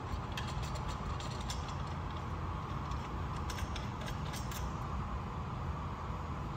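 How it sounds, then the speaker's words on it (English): A bolt is threaded into the handle of a light stand close by, giving a continuous grinding, ratcheting mechanical whir with small clicks running steadily throughout. "you can place it over this hole and then thread it in"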